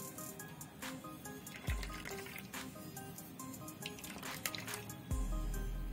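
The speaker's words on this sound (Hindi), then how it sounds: "जितना टाइट निचोड़ सकते हैं निचोड़ लें।" Coconut paste wrung tightly in a thin cloth so the liquid drains into a bowl for homemade coconut oil; quiet, close trickling and dripping continues throughout, broken by a couple of soft low thumps.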